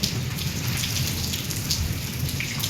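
Rain falls hard and continuously in a village storm after strong winds and blowing dust, a loud even wash of drops with faint low thunder beneath it.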